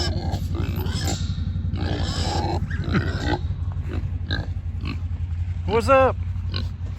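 Pig grunting and snorting around a farm where cows and calves are kept, short rough bursts scattered through steady background noise while someone talks casually nearby.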